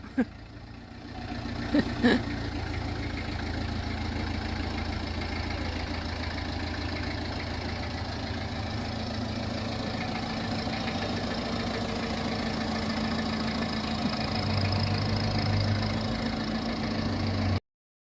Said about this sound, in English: This is the Peugeot engine that's in this one.